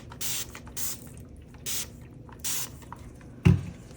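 Four short hissing bursts of a spray can, evenly spaced, then a sharp clunk near the end; quiet in between.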